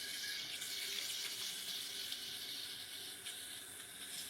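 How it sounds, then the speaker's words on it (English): Water runs steadily from a kitchen sink tap while hands are washed during trout preparation, a soft continuous hiss and splash with no talk over it. "Now let me wash my hands."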